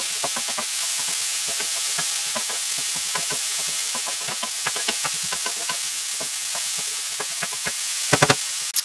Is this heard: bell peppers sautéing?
yes